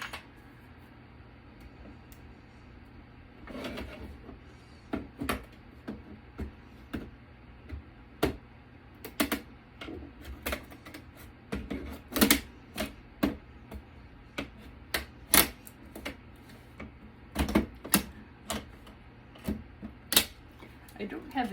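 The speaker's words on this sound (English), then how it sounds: "Gonna get the plastic cover off." A plastic cover is pried and unclipped from a Citrix WAN network server being scrapped: a series of sharp clicks, snaps and creaks, irregular and close, over a low steady hum with occasional quiet handling noise.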